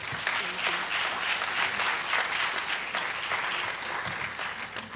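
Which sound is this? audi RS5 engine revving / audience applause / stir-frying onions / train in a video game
audience applause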